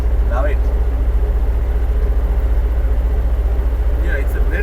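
A 1968 Datsun 510 station wagon engine runs with a steady, low, throbbing rumble, loud and close, holding a fairly even pitch with faint brief sounds over it.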